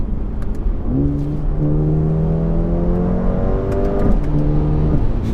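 A Mercedes-AMG A35 with a 306-horsepower engine accelerates hard, its engine note climbing steadily in pitch, dropping briefly at a gear change, then rising again, loud and close from inside the car.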